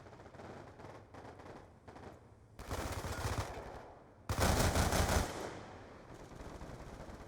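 Automatic gunfire from a hard-recoiling gun in a video game, with short bursts early, then two loud sustained strings of rapid shots, the last tailing off.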